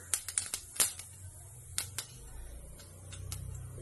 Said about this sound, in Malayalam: നല്ല ചൂടായ എണ്ണാകുമ്പോൾ കടുക് അങ്ങ് പൊട്ടിക്കോളൂ.